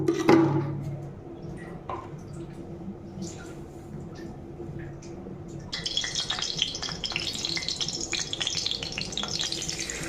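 Pabda fish frying in mustard oil in a wok. Quiet kitchen clatter comes first, then a bright, crackling sizzle bursts in partway through and keeps going, close and fairly loud.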